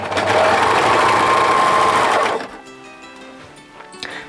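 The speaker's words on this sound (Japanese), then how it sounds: "で脇の下をずっとロックミシンするんです。" An overlock sewing machine runs fast along a dress seam under the armpit, a loud continuous whirring buzz that stops abruptly partway, followed by quieter room sounds.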